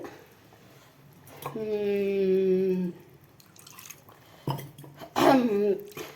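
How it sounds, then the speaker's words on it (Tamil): Ground masala being poured onto banana stem and chana dal in a vessel makes a rising, gurgling pour for about a second and a half, followed by softer drips and a clatter of a utensil against the pot. "இப்போ வந்து இதில் வந்து இந்த அரைச்ச மசாலாவை ஊற்றிடலாம்"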